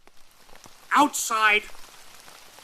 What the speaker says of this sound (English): raindrops gently tapped against the window